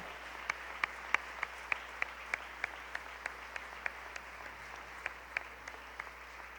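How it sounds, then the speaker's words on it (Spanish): A small church congregation at Iglesia Hermoso Jesús offers applause to the Lord, a soft bed of clapping overlaid by one close, sharp clapper striking a steady, evenly spaced rhythm over several seconds. "Dale una ofrenda de palmas al Señor."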